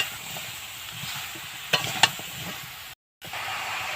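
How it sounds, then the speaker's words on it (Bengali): Bottle gourd pieces are stirred as they fry in a pan, a steady sizzle with a few sharp spoon scrapes near the middle, heard close with a brief dropout near the end. "এবার ভালো করে নেড়ে নেব।"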